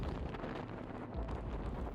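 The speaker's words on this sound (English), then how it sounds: "Wind gusts reached 30 meters per second." Strong arctic wind in a Magadan snowstorm roars as a dense, steady rush buffeting the microphone, faint overall with low rumbling gusts and no voices.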